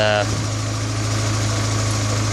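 A 1988 Suzuki Samurai with a 1.6 16-valve engine idles, giving a loud, steady, even hum that holds unchanged from start to finish.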